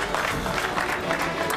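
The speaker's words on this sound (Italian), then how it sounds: "Un applauso per Paola Felice Cavallaro." Audience applause at the Sipario d'Oro 2019 award ceremony, a steady, dense clatter of clapping hands from a crowd filling the short stretch without a break.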